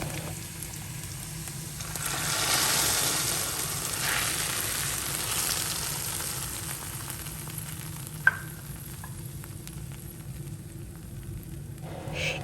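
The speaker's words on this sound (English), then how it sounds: "infuse it with some onions and momone and allow it to just fry through for about 2 minutes" Onions and momone frying in palm oil, a continuous close sizzle that swells early and holds steady, broken once by a sharp utensil tap, with no speech.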